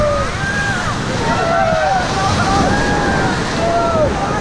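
Rushing white water of the Roller Coaster rapid on a river rafting run in Rishikesh, a loud continuous roar and splash with wind buffeting the microphone and voices shouting over it.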